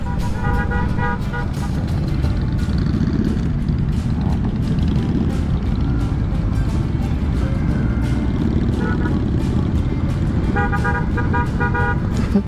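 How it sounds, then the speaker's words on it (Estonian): Car horns honk repeatedly in steady rhythmic bursts over loud road and engine noise while riding with a motorcycle group opening the bike season in Pärnu, Estonia, with faint voices in the mix. "Et räigelt annab signaali kogu aeg."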